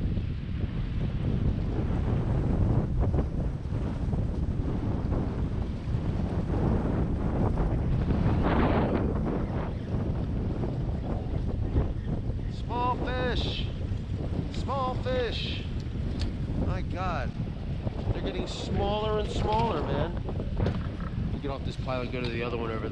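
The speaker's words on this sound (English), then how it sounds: "So the wind is like borderline ridiculous now." Strong wind buffets a fishing boat out after tautog off New Jersey, a constant loud roar of gusts and microphone rumble, with water sloshing and occasional squeaky creaks throughout.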